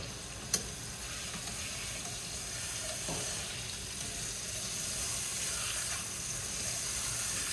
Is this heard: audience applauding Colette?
no